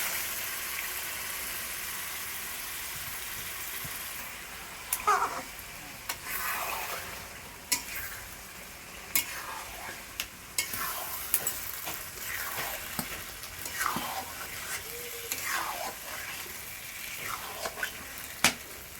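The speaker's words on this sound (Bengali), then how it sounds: "এবার আমি চিকেনটা ঢেলে দেবো, ম্যারিনেট করা চিকেনটা।" Marinated chicken goes into cooked spiced masala in a pan for chicken curry, bringing a quiet frying hiss and, after a few seconds, repeated wet scraping and stirring bursts.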